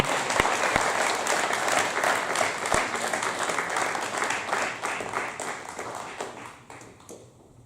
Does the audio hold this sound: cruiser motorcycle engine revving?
no